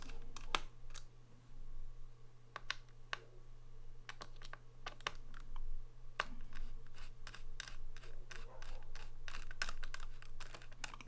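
Phillips screws are worked loose inside an opened 2009 13-inch MacBook Pro, a run of small, sharp metallic clicks and ticks close up over a quiet steady hum, irregular in rhythm.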